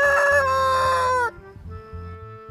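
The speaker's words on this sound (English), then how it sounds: "H for hen." A hen sound effect in a children's alphabet rhyme: a loud, drawn-out fowl call with a crowing, rooster-like tone that cuts off abruptly, leaving quieter background music.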